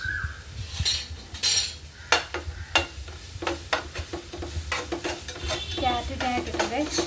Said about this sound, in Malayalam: ക്യാരറ്റ് നല്ലോണം വഴറ്റുണ്ട്.